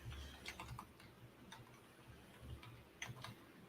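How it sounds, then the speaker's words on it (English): Keys clacking on a computer keyboard in short irregular bursts, faint and close, with small pauses between flurries and no talk over it. "Sorry about the mishaps in the typing"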